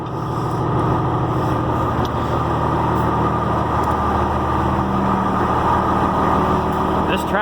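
A New Holland T7030 tractor engine runs on a cold day, a steady loud diesel idle with a deep low rumble that lasts the whole time.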